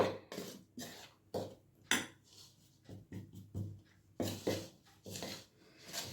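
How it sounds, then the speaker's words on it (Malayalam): A spoon scrapes and knocks around a bowl while rice flour batter is stirred and mixed, a series of irregular clinking strokes, fairly close and quiet, with no talking. "നന്നായി ഇളക്കി യോജിപ്പിക്കുക"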